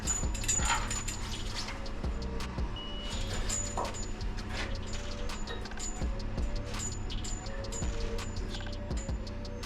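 Dogs whimper and yip in short, repeated cries at a garage where a 1949 Jeep Willys pickup cab is being worked on, heard fairly close over background clatter.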